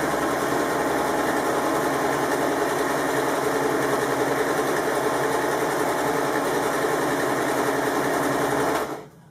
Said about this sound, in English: and then sew on round.